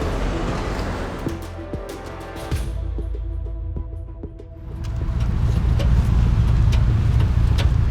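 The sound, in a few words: car being driven away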